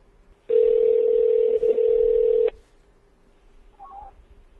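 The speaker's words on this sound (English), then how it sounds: "See if we can get Chris on the phone here." A landline telephone gives a loud, steady dial tone for about two seconds that cuts off abruptly, followed by a brief faint electronic chirp of dialing.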